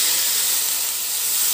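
Water hits a hot pan of sautéed mixed vegetables and pork, releasing a loud, bright, continuous hiss of steam and sizzle that stays close and constant throughout.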